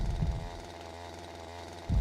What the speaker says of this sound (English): And the chainsaw hasn't stopped.